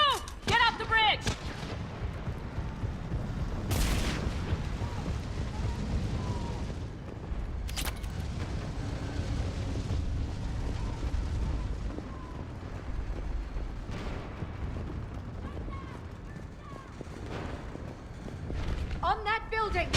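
Video game battle with repeated gunfire cracks and heavy artillery booms spread across the scene, bursts of shots and distant thuds continuing under frequent shouted voices.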